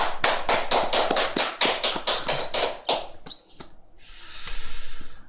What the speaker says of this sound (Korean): 우리 다 같이 박수하겠습니다.